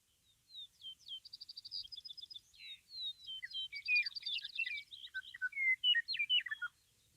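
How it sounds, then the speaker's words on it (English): A meadowlark, horned lark and vesper sparrow sing in quick succession outdoors on a farm field, with trills, rapid repeated notes and sweet whistled phrases, clear against a quiet background. "Hear the meadowlark, of course, horned lark, the vesper sparrow."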